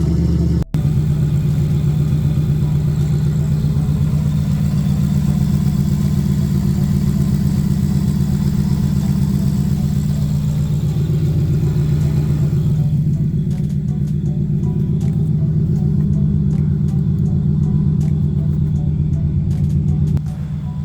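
A car engine idles steadily after a cold start on E85 fuel, a loud, even low rumble that runs smoothly and unbroken throughout with no voices over it.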